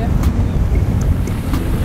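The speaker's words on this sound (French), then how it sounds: "il y a du vent et des nuages." Strong wind buffets the microphone on a beach in Lanzarote, a rough, continuous low rumble with a few faint higher ticks on top.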